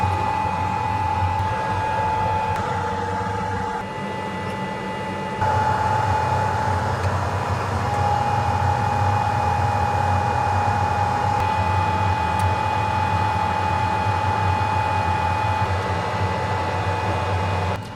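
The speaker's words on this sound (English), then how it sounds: "the motherboard is prepped and ready to go onto our rework machine" A rework machine heats a QNAP TVS-672XT NAS motherboard during a repair, giving off a steady blowing hum with a constant high whine that keeps on for the whole stretch.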